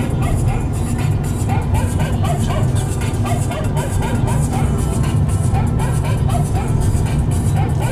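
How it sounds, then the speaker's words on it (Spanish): Dogs bark and yip through music on a walk toward a beach on Brač island, Croatia, the barking recurring steadily and fairly loud above a dense, continuous backing. "cómo puede ser posible que ponga una música con ladrido de perros"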